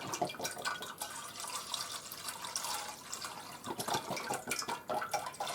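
Store-bought chicken broth poured from a carton into a soup pot of cabbage and potatoes, a quiet sloshing, splashing stream that runs unbroken for several seconds with no talking.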